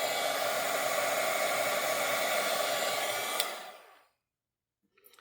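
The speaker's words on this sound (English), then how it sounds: "just turn the heat tool back on and get it real quick" A heat embossing tool blows hot air over embossing powder on a handmade card, making a loud, steady hairdryer-like roar up close that winds down and cuts off, followed by brief quiet and small handling noises.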